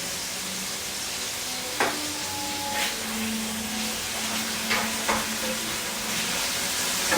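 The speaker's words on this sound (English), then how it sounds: "that's frying up pretty good" A steady sizzle of hamburger, sausage and cabbage frying in a pot, with occasional scraping stirs and soft clinks, no voices.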